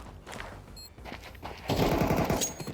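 Rapid gunfire from the video game Counter-Strike 2 bursts in loudly during the second half, a dense run of shots after quieter game ambience.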